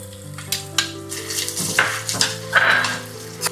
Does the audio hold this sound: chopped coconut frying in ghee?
yes